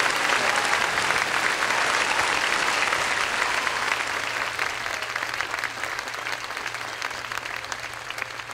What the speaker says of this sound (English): if you will give them a warm applause